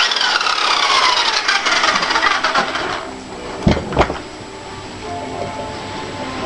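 Yanmar diesel engine cranking with a rough, broadband mechanical clatter up close and loud, easing to a steadier idle with a couple of sharp knocks near the middle.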